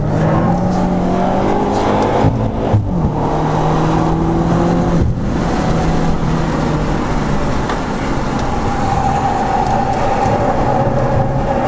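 A BMW twin-charged V8 race car with 555 horsepower accelerating hard and downshifting through the gears, a loud continuous engine roar with shifting pitch and rev blips, close and dominant.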